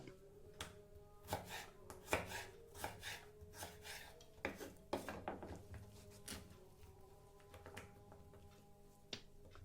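A knife slicing potatoes into french fry strips on a cutting board, quiet close chops and taps at an irregular pace with soft scraping between strokes.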